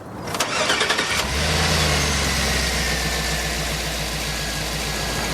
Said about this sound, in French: Et attends, moteur.